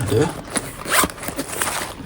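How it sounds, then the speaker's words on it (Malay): Zipper on a bag compartment being pulled open and shut, a few quick close ripping strokes, with some speech around them. "Depan dia ada lagi zip belakang."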